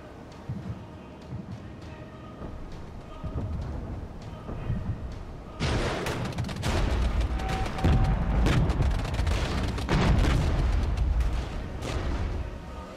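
Mortar fire in the strategy game Regiments: scattered distant thumps at first, then from about six seconds a dense barrage of loud booms and blasts rolling over one another, with no talk.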